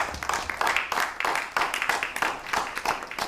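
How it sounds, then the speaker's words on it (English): A lecture audience applauds after a speaker introduces a nonviolence trainer, giving steady, dense clapping from many hands at close range that carries on evenly throughout without any talk over it. "If we could have a round of applause"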